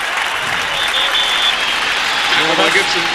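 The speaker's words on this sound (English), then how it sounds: "Now they cheer him wildly" A stadium crowd at a 1999 NFL game between Cincinnati and Tennessee cheers loudly and steadily, a dense roar of applause and voices with broadcast commentary talking over it.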